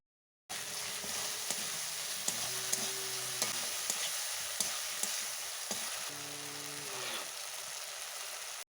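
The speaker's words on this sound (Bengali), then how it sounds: "এরপর দেব কুচি করে রাখা টমেটো ভালোভাবে মশলার সাথে কষে নেব" Chopped tomatoes stir-fried with spices in a pan give a steady, close sizzle and frying hiss, broken by soft scraping stirs and a few light clinks of the spoon against the pan.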